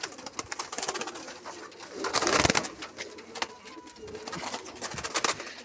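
Pigeons coo softly and repeatedly nearby, with faint rustling and background noise around them.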